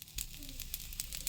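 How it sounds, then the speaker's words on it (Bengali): Chusi pitha frying in ghee gives a soft, steady sizzle with faint crackles, heard close up and quiet, with no talk over it. "চুষি পিঠাগুলিকে আমি প্রথমে একটু ঘিতে ভালো করে ভেজে"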